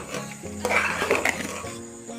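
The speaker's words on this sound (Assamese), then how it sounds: "খুব ভালদৰে মই এইখিনি লৰাই দিম" Khichdi spices with raw and dried chillies stirred in a pot, a spoon scraping and clinking against the metal in a steady rhythm for about two seconds, close and moderately loud with no talk.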